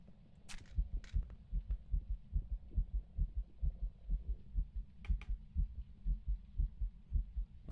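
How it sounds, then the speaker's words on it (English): A steady, fast thumping heartbeat from the Phasmophobia horror game pulses evenly throughout, low and throbbing, with a couple of faint clicks and small noises over it. "My heartbeat is covering the sound of it."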